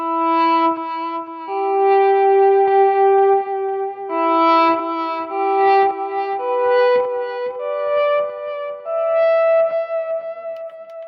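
An electric guitar played through two stacked sustain pedals into a Fender Tone Master amp swells in smoothly on long, ringing notes that step up in pitch one after another, clear and alone.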